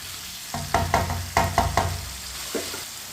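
Potatoes are stirred as they fry in a pan. A quick run of close metallic scrapes and clinks rises above a soft background sizzle, with no talking.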